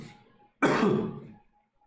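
One sharp, harsh cough breaks out after a moment of quiet and trails off into a rough throat clearing, close and fairly loud, with no speech.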